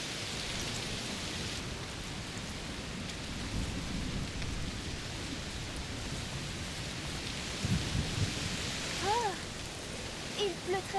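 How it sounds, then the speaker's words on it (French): Heavy rain pours steadily in a stormy scene from the video game A Plague Tale: Requiem, a dense hiss with low rumbling thunder swelling beneath it, while voices speak over the downpour. "Il pleut très fort."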